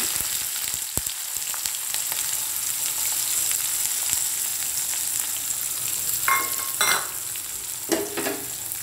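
Mustard seeds and urad dal crackle in hot oil as a large onion goes into the pan. A continuous close sizzle carries sharp pops and a few scraping stir sounds. No voices are heard.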